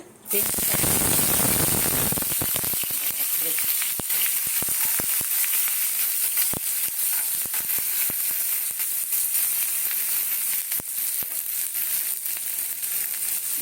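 Hot oil sizzles and crackles steadily in a frying pan after jackfruit kofta frying, a loud dense hiss that bursts at first then settles into continuous crackling with sharp pops.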